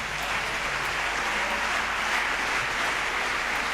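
A church congregation applauding during a Sunday service, a dense, steady wash of many hands clapping together without pause.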